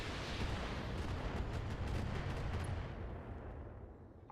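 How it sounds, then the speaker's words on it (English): Indirect artillery fire from mechs in the BattleTech mod Roguetech rumbles as a dense, continuous barrage of low booms and crackling impacts, loud and steady, fading slightly near the end. "Some indirect fire on Fang."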